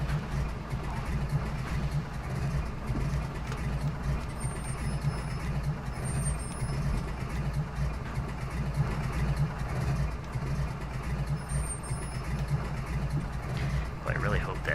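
MilViz Beaver plane taxiing in the FSX flight simulator, a steady low piston-engine drone with a few faint high beeps, running under people talking.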